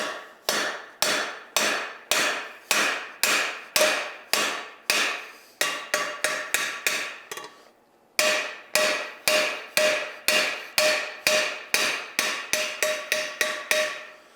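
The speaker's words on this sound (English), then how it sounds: "as you rivet these together, they draws the steel together as the rivet clamps down" Rivets hammered on a carbon steel skillet, loud ringing metallic blows in steady rhythmic bursts, each strike decaying, with a brief pause midway and no talk.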